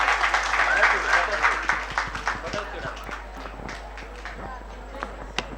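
Audience at a spiritual gathering in a village assembly clapping for a speaker named Rupasri, a scattered burst of hand claps that thins out over several seconds, fairly faint, with crisp individual claps standing out near the end.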